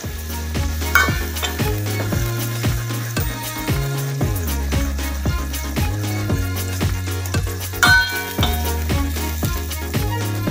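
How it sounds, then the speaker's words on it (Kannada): Ground masala for a vegetable curry fries in a pan, stirred again and again, with steady sizzling and frequent scraping strokes under a constant tonal background, close and fairly loud. "ಸ್ವಲ್ಪ ಫ್ರೈ ಮಾಡೋದು ಮಸಾಲೆನ"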